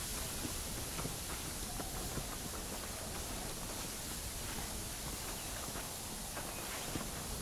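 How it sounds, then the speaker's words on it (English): Horse hooves clip-clop in Red Dead Redemption, a steady muffled stream of hoof beats and footfalls under a constant wash of ambient noise across the whole stretch, with no talking. "There should be some horses for us across the way."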